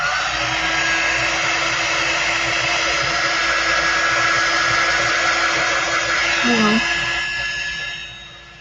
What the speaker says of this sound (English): I'm just turning on my dryer.